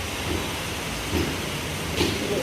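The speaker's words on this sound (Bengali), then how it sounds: "বৃষ্টি পড়া শুরু করে দিয়েছে এই যে" Continuous hiss of rain falling close by, steady throughout with a few slightly louder swells, and a low background rumble.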